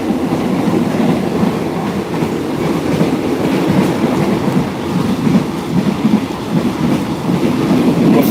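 Inside a moving train car, a loud, steady rumble fills the space, with rhythmic clacking and rattling of the wheels over the rails running continuously throughout.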